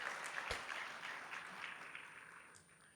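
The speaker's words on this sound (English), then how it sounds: "those range of stakeholders that participated deserve a round of applause, if you allow." Very faint applause from a crowd at a financial inclusion survey launch event in Rwanda, a soft broadband patter of distant clapping that slowly tapers off.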